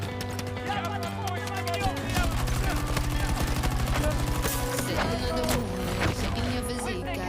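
Gunfire in the video game Battlefield: rapid automatic bursts thudding in fast rhythm through the middle stretch, mixed with busy game sounds and music, fairly close, with a person talking over it.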